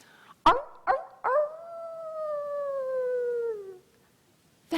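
A voice imitates a dog moaning for its master: three short barking yelps, then a long sliding howl that fades out, heard close and alone.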